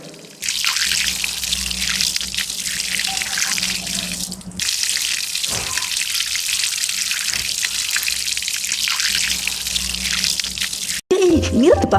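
Tap water pours steadily into a vessel as it fills, a continuous broadband gush lasting most of the time with one brief break, then a short clatter at the end.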